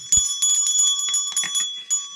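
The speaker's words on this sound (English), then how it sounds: "So it's like a dinner bell." An old dinner bell, detachable from its mount, rings loudly in a quick series of bright metallic strikes with lingering ring.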